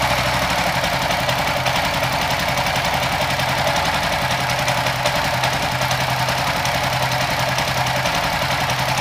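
A bored-up racing motorcycle engine fitted with a racing ECU idles at low revs, a loud, close, steady mechanical chatter with a fast, even pulse that continues unbroken throughout.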